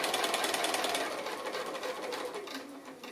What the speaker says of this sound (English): So I'll just do the stitching now.